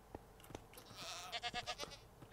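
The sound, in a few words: goats bleating in Minecraft video game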